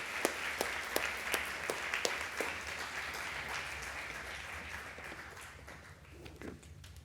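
An audience at a lecture hall event applauds to welcome a history professor, with a brisk patter of many hands that gradually thins and fades toward the end.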